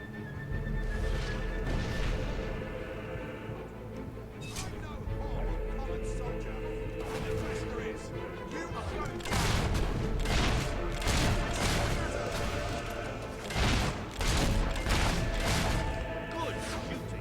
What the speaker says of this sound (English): You've used one of those mortars before. How about you blow up this one?